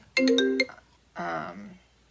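A mobile phone ringtone plays two short melodic bursts of bright electronic tones with a pause between them, close and clear against a quiet room.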